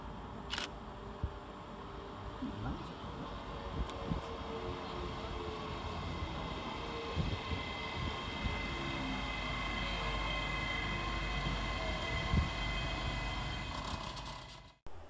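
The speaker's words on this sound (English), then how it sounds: "And here comes our train in the form of 385-019 with the 12:53 Scotrail service from Dunblane to Glasgow Queen Street." A Scotrail class 385 electric train pulls into Bishopbriggs railway station with a steady, building rumble and faint mechanical squeals, holding level until it cuts off abruptly.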